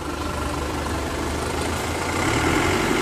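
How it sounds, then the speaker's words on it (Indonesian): Isuzu Panther LS Hybrid 2002 turbo diesel engine revving, heard from the front: a steady, loud low-pitched diesel drone that swells slightly toward the end, with no talk. "Coba digas lagi Mar, biar suara turbonya terdengar ini dari depan."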